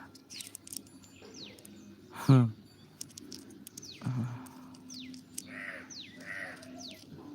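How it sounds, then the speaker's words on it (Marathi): Outdoors, a crow gives a single loud caw close by, with fainter bird calls and chirps scattered around it and no talking. "हा कावळा चुप बसला नाही म्हणतो बो कावळा"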